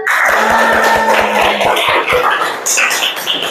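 A class claps in a rhythmic chant, a run of quick, loud, even claps followed by a looser burst of clapping, with voices calling out over it.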